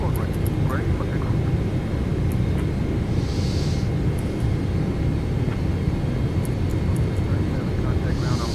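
An Alaska Airlines jet at Seattle roars with a loud, unbroken engine rumble as it takes off, while voices talk over the constant noise.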